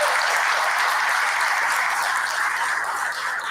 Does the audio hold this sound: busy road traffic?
no